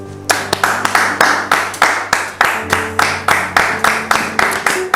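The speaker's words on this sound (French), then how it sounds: "Merci donc de la recevoir sous vos applaudissements" Studio audience clapping to welcome a guest onto a talk show set, a close, steady stream of sharp rhythmic claps beginning a fraction of a second in and carrying on evenly throughout, with no talk.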